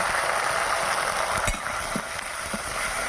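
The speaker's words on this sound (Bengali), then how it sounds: "এবার মশলা ভালো করে কষে নেব" Turmeric, salt and spices sautéing in a pan for a vegetarian curry, giving a steady, close sizzle and frying hiss throughout, with a few faint scrapes of stirring and no talk.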